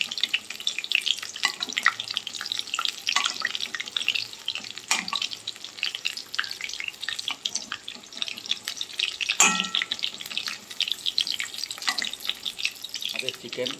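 Chicken leg pieces fry in oil over low heat, giving a steady close sizzle and crackle throughout with occasional stirring clatter and brief watery splashes.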